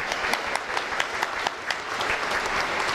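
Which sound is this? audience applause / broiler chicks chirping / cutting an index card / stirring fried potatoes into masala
audience applause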